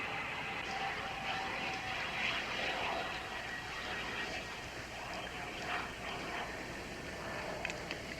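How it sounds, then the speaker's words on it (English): Distant propeller airplane engine drones as a steady, faint hum under broad background noise, holding evenly for several seconds with no voices. "It's a weird sound. Sort of like an airplane."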